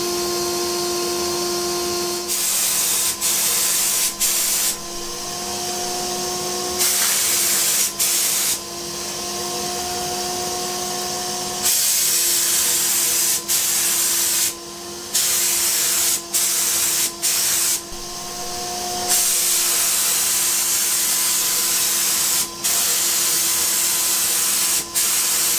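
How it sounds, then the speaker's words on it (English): A Fuji spray kit sprays a top coat onto a sign board, with a loud steady hiss from the spray gun and a humming turbine running underneath, cut by several short pauses and restarts. "And I'm using the Fuji spray kit that I mentioned earlier."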